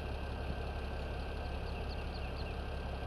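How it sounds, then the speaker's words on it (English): A tractor engine idles in Farming Simulator 17 with a steady, even low rumble and faint higher whine that holds constant throughout, with no voice over it. "my engine started. It's still running."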